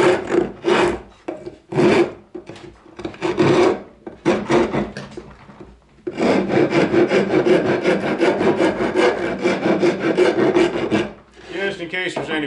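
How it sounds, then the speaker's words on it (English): A rasp files and tapers the edge of a wooden birdhouse lid with loud, close, rough scraping strokes, first in short separate passes and then in a long continuous run of rapid back-and-forth strokes, with no talking. "Take a rasp and kind of taper this edge a little bit."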